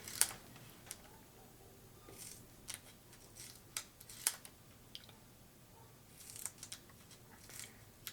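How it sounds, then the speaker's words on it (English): Scissors cutting card into strips, a series of crisp, close snips spaced irregularly over quiet background, with light paper rustling between cuts. "And all I'm going to do is cut strips."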